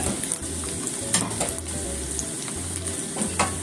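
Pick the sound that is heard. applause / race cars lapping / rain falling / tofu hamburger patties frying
tofu hamburger patties frying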